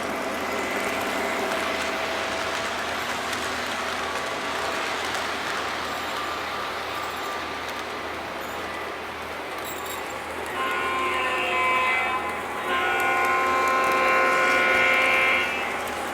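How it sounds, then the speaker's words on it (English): Model trains, including a CSX train pulling a caboose, run along a hobby layout with a steady rolling rumble and whir that grows slightly louder toward the end, with no talking. "And we have trains over here."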